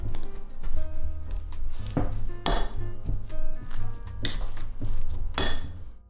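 Steamed taro being pressed and mashed on a plate with a utensil: repeated clinks and scrapes of metal against the dish over a steady background of tonal music.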